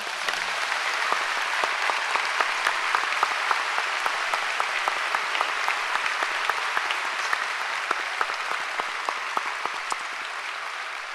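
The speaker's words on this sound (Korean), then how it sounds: "박수 한번 하겠습니다" A church congregation applauds a visiting pastor and his wife during a special dawn service; sustained, even clapping from a large crowd with sharp individual claps standing out throughout.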